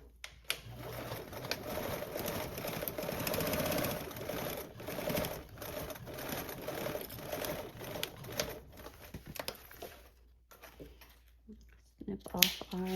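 A sewing machine stitching a quarter-inch seam on a garment, its rapid needle chatter running in bursts for several seconds with brief pauses, close and prominent, with a voice speaking faintly underneath.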